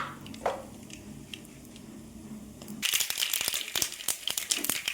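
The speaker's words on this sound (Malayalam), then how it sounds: "കടുകൊന്ന് പൊട്ടട്ടെ." Mustard seeds hit hot butter in a pan, a soft sizzle that breaks into rapid crackling pops after a few seconds, dense and close.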